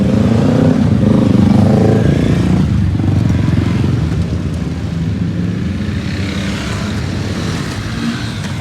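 A Yamaha R1 sport motorcycle engine roars loud and close at the start of a group bike ride to Yercaud, a steady rumbling rev that eases slightly after the first few seconds and holds on without talk.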